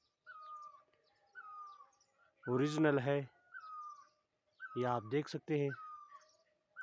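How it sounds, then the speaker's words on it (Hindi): Morning birdsong in a mountain forest: repeated short chirps and whistled calls, fairly distant and faint, recurring steadily while someone talks over them in two stretches. "और चिड़ियाओं की आवाज़ भी आप सुन रहे होंगे"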